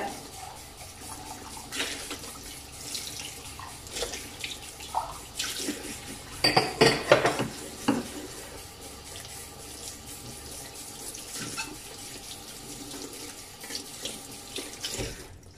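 A tap runs steadily into a sink while a plate is scrubbed with dish soap. Splashes and clatter briefly grow louder midway, then the water settles back to an even, close rush.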